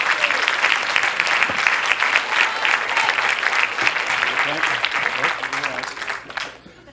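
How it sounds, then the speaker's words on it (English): An audience gives a loud, sustained round of applause for Cliff Parrott as he is called onto a stage at a live event, the clapping dense and steady before tapering off at the end. "Big round of applause for Cliff."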